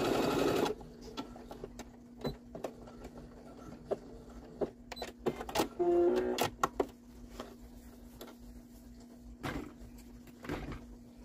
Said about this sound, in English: Optional channel stitch to encourage quicker absorption.